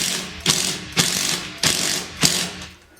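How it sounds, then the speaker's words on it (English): Impact wrench fitted with a 10mm socket driving bolts for a full-motion TV wall mount, four short rattling bursts spaced about half a second apart, close and crisp, with no talking. "the impact wrench. We got a 10mm socket on it"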